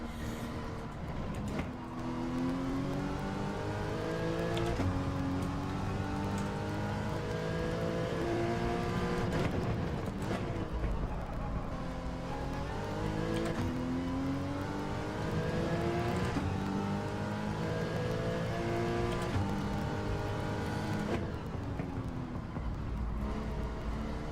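Porsche Cup race car in Gran Turismo 7 at the Catalunya Raceway: a loud, continuous engine note climbing and dropping in repeated gear-change sweeps and braking dips, close and steady throughout with no talking.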